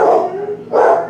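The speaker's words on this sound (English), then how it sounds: "My dogs might bark in a second." Dogs barking indoors, two loud close barks with a short gap between them, each a full, slightly drawn-out woof.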